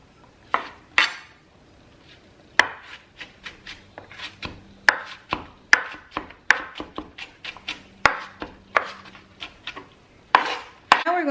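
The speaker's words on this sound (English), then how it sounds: "you can just run your knife through one more time to make sure that you get them a little bit finer and there's no big chunks" A knife chops ceviche ingredients finely on a board, sharp irregular knocks in quick bursts, some clustered and some spaced, close and clear with no talking.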